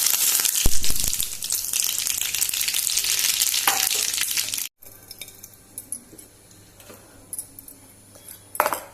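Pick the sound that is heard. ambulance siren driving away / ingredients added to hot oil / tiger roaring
ingredients added to hot oil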